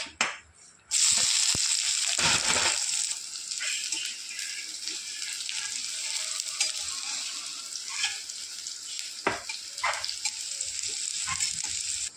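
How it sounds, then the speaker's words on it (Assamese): Onions hit hot ghee in a pan for poha and burst into a loud sizzle, which settles into a steady crackling fry with a few stirring clatters and spikes. "মই প্ৰথমতে পিঁয়াজ দি লৈছোঁ।"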